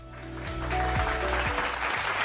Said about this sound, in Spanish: reciban con un fuerte aplauso a Ashley Valentina Marte